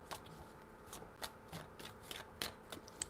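Tarot cards shuffled by hand close up, a quiet series of crisp riffling bursts and soft card slaps in an irregular rhythm, with no talk.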